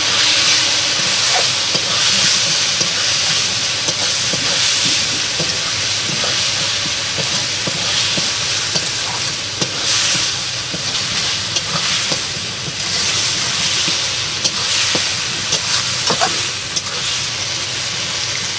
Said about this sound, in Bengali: আমার মশলা কষা হয়ে গেছে